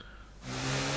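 In the F1 22 video game, a race car brakes too late, and a brief engine roar swells suddenly with a hissing tire squeal rising at the end, with no voices.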